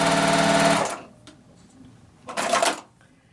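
A sewing machine stitches a line on a beginner tree quilt block, running in a fast whirring burst, pausing, then a second shorter burst, close and loud.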